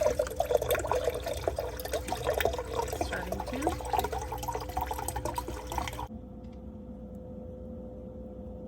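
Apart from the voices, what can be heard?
refrigerator water dispenser filling glass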